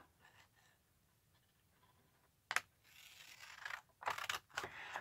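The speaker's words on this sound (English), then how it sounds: "I think for this I'm going to cut it right along the fold lines." Scissors cut paper along its fold lines while matchbook journal booklets are being made, giving quiet, close snips and rustles that grow into several short, louder crisp cuts near the end.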